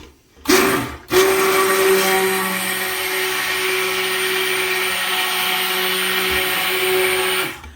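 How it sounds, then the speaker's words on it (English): A blender mixing soap with olive oil whirs on after a couple of short starts, then runs steadily at a loud, even pitch before cutting off. "So excuse the blender noise."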